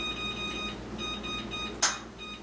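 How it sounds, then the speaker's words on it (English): Kitchen timer chiming in a home kitchen while fish fillets cook, faint repeating electronic beeps in short bursts over a steady background hum, with one brief louder clatter near the end. "Kitchen timer."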